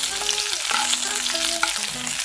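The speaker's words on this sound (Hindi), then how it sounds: "देखिए अभी हम इसको थोड़ा सा फ्राई कर लेंगे" Finely chopped green chillies and ginger fry in a pan for Indian-style Maggi masala pasta, a loud close sizzle with spatula scrapes and a few short squeaky metallic tones as the pan is stirred.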